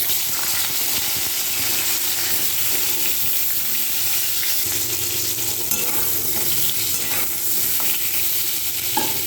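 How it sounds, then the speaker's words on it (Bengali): Potatoes frying in oil with whole-spice tempering in a wok blackened from frying brinjal. A loud, continuous sizzle carries throughout, broken by the scrape of stirring. "ওর মধ্যে একটু তেল দিয়ে ফোড়ন দিয়ে আমি আলুগুলোকে ভেজে নেব।"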